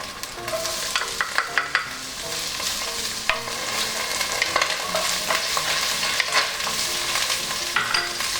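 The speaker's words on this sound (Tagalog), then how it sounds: "Ilagay na natin kaagad dito yung sibuyas." Onions sizzling and being stirred in a hot pan with garlic and ginger, a steady frying hiss broken by frequent scraping and tapping of the spoon against the pan.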